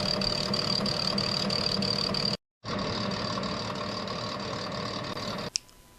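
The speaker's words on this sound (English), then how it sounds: "So the first thing we do is machine off the teeth that are already there." A machine tool cuts the old teeth off an International Harvester No 15 baler gear shaft, a loud continuous grinding drone with a faint rhythmic beat, broken by one brief silence and ending in a sharp click.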